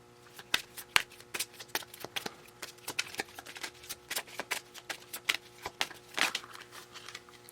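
Tarot cards shuffled by hand nearby, a steady run of crisp riffling snaps and soft flutters spread over several seconds, with no talking.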